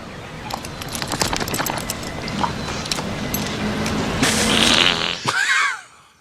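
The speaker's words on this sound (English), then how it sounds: "He tells the dog to be quiet and it farts." A loud, drawn-out sputtering dog fart rises over a rough background noise, ending with a brief squeaky tail.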